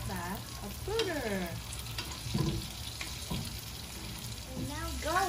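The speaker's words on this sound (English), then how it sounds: "Now I put the butter. Okay, put the fat of butter." Butter sizzling in a new pan alongside a New York steak with rosemary, a continuous close frying hiss under intermittent talking and a few stirring sounds.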